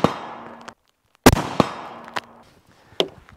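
Three sharp rifle shots from a 6CM rifle build at an outdoor range, each a loud crack with a decaying echo, spaced about a second apart, along with a few smaller clicks and bumps.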